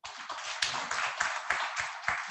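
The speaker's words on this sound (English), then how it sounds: "Give yourself a round of applause." Light, quick applause from a fellowship induction audience, rhythmic clapping at a fairly even pace, faint and somewhat distant, brief and with no voices.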